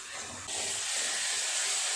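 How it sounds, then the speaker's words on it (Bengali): Spice paste sizzling in hot oil while being fried with Kashmiri chili powder for a katla fish curry, a steady close hiss that jumps louder partway through and then holds. "4-5 মিনিট সময় নিয়ে এইভাবে মশলাটাকে কষাতে হবে।"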